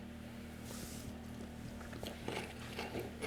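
Crunchy Asian-style coleslaw being bitten and chewed close up, a few soft crisp crunches over a steady low hum, with no talking.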